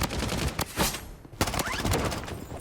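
Assault rifle fire in the Blood Strike video game comes in rapid close bursts of sharp cracks, broken by short pauses.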